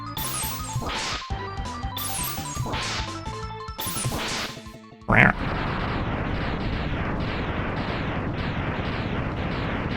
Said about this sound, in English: the explosions became a lot less dramatic